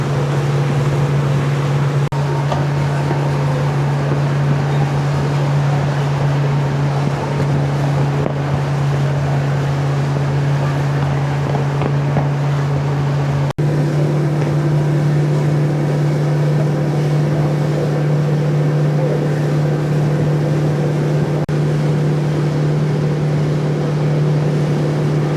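A boat engine drones steadily and loudly throughout on a river cruise in Terengganu, a constant low hum mixed with wind rushing past the microphone and water noise.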